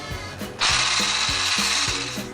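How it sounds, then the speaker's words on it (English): Egg whites and caster sugar are beaten with a motorized whisk, a steady buzzing hum with a repeating rattle and a louder high whir starting just after the beginning, close and without talk. "And then I keep whisking."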